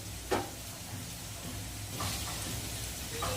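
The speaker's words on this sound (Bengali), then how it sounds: "এদিকে তো আলুটা ভাজা হচ্ছে" Potatoes lightly frying in a pan give a soft, faint sizzle with a couple of brief louder crackles or stirring scrapes, quiet and close.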